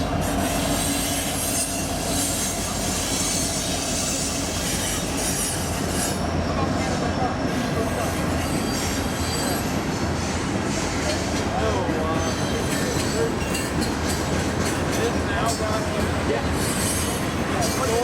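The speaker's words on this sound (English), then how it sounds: "NS 911 is a rebuilt SD60E locomotive" A Norfolk Southern train led by rebuilt SD60E diesel locomotive NS 911 rolls past continuously with heavy rumbling, wheel clatter and occasional squealing, the loud mechanical noise steady throughout without a clear pause.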